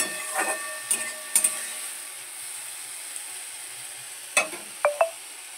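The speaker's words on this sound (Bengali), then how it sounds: "সবগুলোকে একসাথে এইভাবে কষিয়ে নেব" Spices, red chilli powder, tomato and a little water are sautéed in a pan: scattered spatula scrapes and clinks, a few sharp taps, over a faint, quiet sizzle, with no talking.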